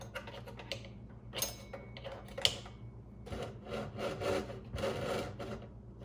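Harbor Freight 4x36 belt and 6-inch disc sander with its disc rubbing on something while spinning, heard as irregular scraping and rasping bursts over a low motor hum, close and fairly quiet.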